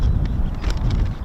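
Gusty wind buffets the microphone at an outdoor airfield, a steady low rumble filling the short stretch with constant roaring turbulence and no clear talk.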